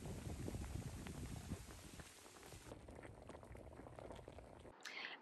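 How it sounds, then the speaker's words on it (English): Kenkey simmers in boiling water in a pot, a steady, close bubbling and gurgling that fades slightly midway and ends with a brief clunk. "we're just going to let our kenkey simmer"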